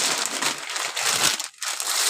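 A plastic bag of dry pasta is crinkled and handled in a home kitchen, giving dense, loud, close crackling with a brief pause before it resumes; no voices.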